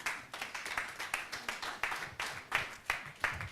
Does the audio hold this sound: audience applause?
yes